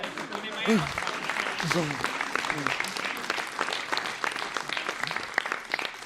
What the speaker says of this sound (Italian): Devo ancora capire perché mi applaudono così spesso qua.